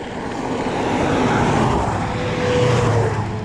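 Roaring car engines at steady loud volume, a continuous drag-racing drone with a rising whine, heard nearby while riding a bike outdoors.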